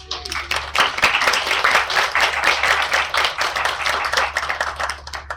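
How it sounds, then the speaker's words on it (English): An audience at a county proclamation ceremony honoring a health center's 50th anniversary gives a round of applause, loud, close clapping with distinct individual claps pulsing unevenly throughout, with a low steady hum underneath. "Big round of applause."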